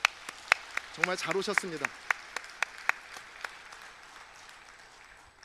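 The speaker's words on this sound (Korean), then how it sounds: "우리 서로를 한번 격려하는 박수 한번 해볼까요?" Scattered applause from a church congregation at a dawn prayer service, sparse individual claps that fade out, with someone speaking briefly over the first part.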